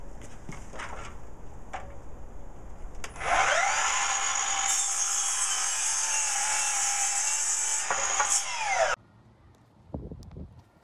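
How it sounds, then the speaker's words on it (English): A hand saw cuts a wooden shelf board to length in a continuous, close, scraping burst of about six seconds, preceded by light knocks and handling and followed by quieter clatter as the cut finishes. "now I'm just going to take my saw and I'm just going to go ahead and cut this to length"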